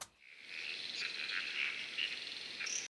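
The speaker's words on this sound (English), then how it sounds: "One is really just like night insects sound" A night insects sound effect gives a continuous high, shimmering chirring chorus that holds steady for a few seconds before cutting off abruptly, with a few brief louder pulses inside it.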